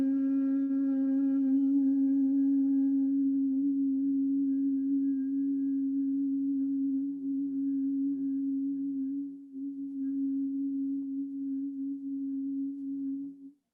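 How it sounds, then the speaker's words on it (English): A single long, steady hum at a low pitch, made while exhaling through the nose during a meditation breathing exercise, sounding close and even, fading slightly near the end before stopping. "how long your exhale is prolonged quite easily by just exhaling through your nose while you're humming"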